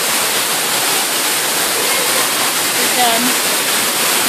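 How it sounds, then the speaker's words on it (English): An indoor waterfall in a store's cave display roars as a dense, steady wash of falling water, loud and close, with a brief spoken word over it. "It's right next to the waterfall thing."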